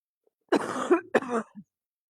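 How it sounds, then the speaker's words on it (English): Two harsh coughing bursts close by, the second shorter, followed by a small throat sound. "I hope my cough is better."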